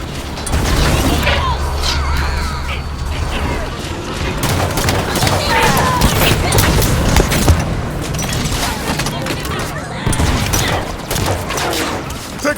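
Sustained heavy gunfire in the Halo 5: Guardians video game, with dense overlapping bursts, booms and mechanical clatter throughout and voices talking over the battle.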